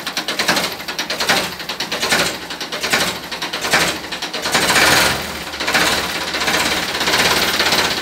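A Ford 3600 tractor engine runs at close range, a loud, steady diesel clatter with a fast, even knocking rhythm that swells slightly in places but holds constant throughout.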